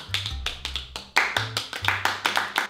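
Hands clap in a quick, uneven run of a dozen or so sharp, close smacks over under three seconds, with a low thumping beat underneath.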